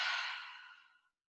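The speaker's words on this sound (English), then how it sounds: "So let's take 3 collective breaths here" A single slow exhaling breath during guided relaxation breathing, soft and close, a breathy rush that fades out over about a second with no talk.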